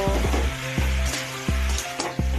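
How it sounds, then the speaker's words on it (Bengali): Onions and meat sizzle in a pan, with steady crackling frying noise punctuated by repeated regular scraping and stirring strokes of a utensil, close and fairly loud with no talk. "পেঁয়াজটা লাল লাল করে ভেজে নেব। তারপরে দিয়ে দেবো মাংস, তারপরে মাংসটা ভালো করে কষাবো।"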